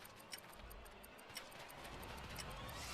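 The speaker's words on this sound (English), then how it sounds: "I heard ticking. It was a time bomb?" A time bomb in Final Fantasy XIV ticks faintly and steadily, a series of light, evenly spaced clicks over a low background hum, quiet and somewhat distant.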